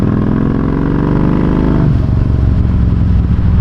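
Motorcycle exhaust revving hard under acceleration in third gear, loud and close, the engine note climbing and then dropping into a rough, throaty roar as the rider opens the throttle on the road.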